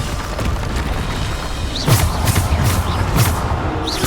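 Bombarda explosion spells cast in Hogwarts Legacy, a series of booming blasts and thuds over a steady rumbling game background, several bursts close together in the second half.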